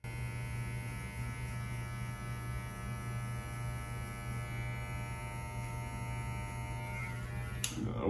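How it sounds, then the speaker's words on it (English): Andis T-Outliner hair trimmers cut hair during a self-administered high taper on 360 waves, producing a steady close electric buzz with a strong hum throughout that ends in a sharp click as they switch off. "So I just went with the Andy's T-Liners trimmers"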